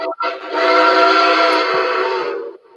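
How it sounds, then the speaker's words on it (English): A model train whistle on an American Railroads Burke locomotive sounds one long, steady, loud tone, close by, with a brief break right at the start. "Sweet whistle."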